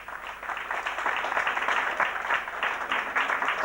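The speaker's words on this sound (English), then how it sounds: "let's hear a big round of applause for Martin Hansen" An audience applauds at a Black History Month fashion show, a steady wash of clapping from a sizeable crowd that holds at an even level throughout.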